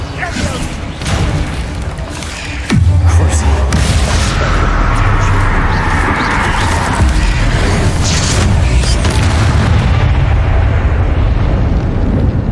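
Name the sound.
Confringo explosive spell blasts in video game Hogwarts Legacy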